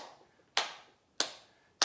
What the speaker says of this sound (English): Slow clap, okay?